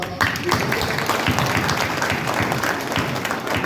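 A gathering at a dairy event in Kathua, Pandori claps in a dense, steady wash of applause for a few seconds, fairly loud and close, with some voices underneath.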